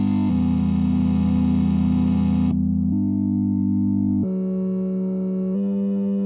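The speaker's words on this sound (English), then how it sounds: "Square wave." Hollow, reedy square-wave chords from a Chord Machine Eurorack synthesizer module, sustained and loud, stepping through a few chord changes with no speech.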